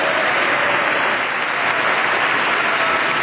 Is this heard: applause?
yes